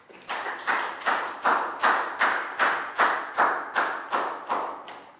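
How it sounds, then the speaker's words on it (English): A small group in a Year 3 maths class claps in unison, about eleven sharp, evenly spaced beats in a steady rhythm, close and clear with no talking. "Big round of applause for Pat."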